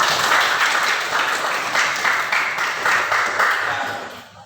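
Classroom of students applauding at the end of a group discussion on drug dangers, a steady burst of many hands clapping that holds, then begins to fade near the end.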